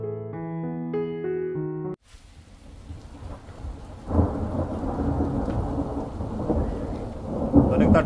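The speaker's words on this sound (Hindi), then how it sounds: "तो अब बारिश होने लग गई है और बाहर का काम नहीं कर सकते" A thunderstorm breaks over a mountain village during wheat threshing, bringing steady heavy rain with rumbling thunder that swells loudly partway through and stays dense and close, following a short stretch of music.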